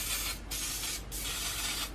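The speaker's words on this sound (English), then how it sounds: "Take my coconut oil spray and I'm just going to spray it down." Coconut oil spray misted over bell peppers in a pan: four short, close pressurized hisses in a steady rhythm, each separated by a brief pause.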